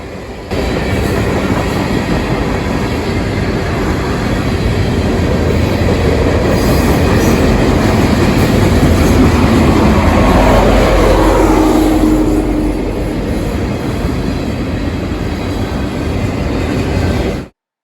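A long Norfolk Southern freight train, 14Q, rolls past close by with a mid-train DPU, its heavy steady rumble and clacking wheels building and holding loud for most of the pass, then cutting off abruptly.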